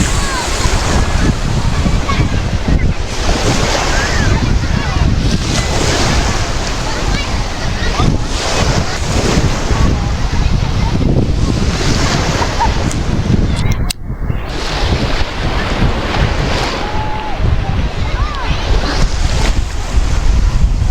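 Sea surf rolls continuously onto the beach at Gamasa on Egypt's coast, loud and close, with heavy wind buffeting the microphone and faint voices in the background.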